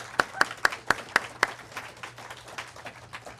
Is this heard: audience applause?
yes